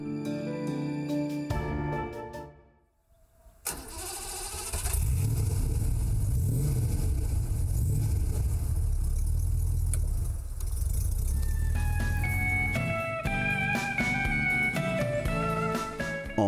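A 1950s BMW 503 convertible with a light-alloy V8 starts up, settles into a steady idle and is revved, with music playing at the start and returning toward the end.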